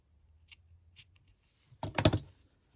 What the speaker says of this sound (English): And then you can just trim off your tail ends.